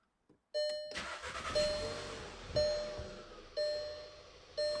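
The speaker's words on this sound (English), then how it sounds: "now we're gonna restart the engine" A Volkswagen MK6 car engine cranks and catches after a brief quiet start, followed by a steady idle with repeating dash chimes sounding at regular intervals, close and fairly loud.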